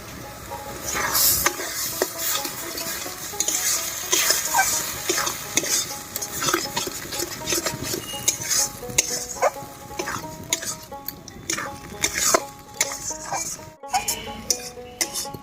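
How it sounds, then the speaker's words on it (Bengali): Pointed gourd paste with turmeric and salt sautés slowly in a pan, a steady close sizzle broken by repeated scraping and clinking of a spatula against the metal over about fifteen seconds. "এই পটলটা এখন আমি খুব আস্তে আস্তে কষাবো"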